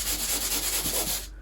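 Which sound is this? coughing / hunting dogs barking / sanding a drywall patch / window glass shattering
sanding a drywall patch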